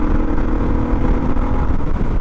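A Suzuki DR650 motorcycle with a custom exhaust is ridden, its engine droning loud and close with a rough, throbbing exhaust note that holds steady and rises slightly as the throttle opens.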